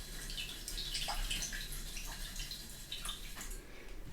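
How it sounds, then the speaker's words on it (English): A paintbrush is swished and rinsed in a water jar during oil painting with water-mixable oils, soft close splashing and dripping at a low level. "So I'm going to wash out my brush."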